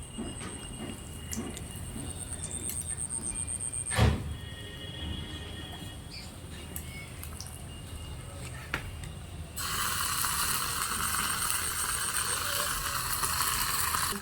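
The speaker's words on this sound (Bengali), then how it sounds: "বন্ধুরা আমি আদা রসুনটা দিয়ে দেবো।" Ginger and garlic fry in oil in a tiny miniature-kitchen pot, a soft, close sizzle under clinks and scrapes with one sharp knock, turning to a louder, brighter hiss in the final seconds.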